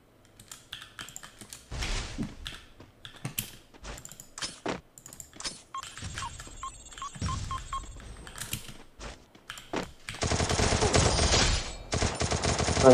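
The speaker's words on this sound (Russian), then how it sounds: "Почему я в кусте стрелял?" Rapid gunfire and clicking weapon sounds from the shooter game Free Fire, coming in scattered bursts before a dense, loud sustained volley near the end.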